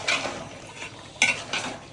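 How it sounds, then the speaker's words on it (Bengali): Duck meat being stirred and browned in a pot at an outdoor group picnic, with a few sharp metal scrapes and clinks of the spoon against the pot over a low sizzle, close by. "কষানো চলতেছে মাংস।"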